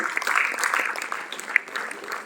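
A theatre audience at a drama competition applauds a guest professor, a brief burst of dense clapping with a voice over it.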